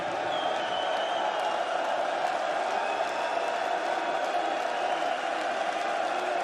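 Steady crowd cheering and applause at a professional darts tournament, a continuous roar that holds at an even level throughout.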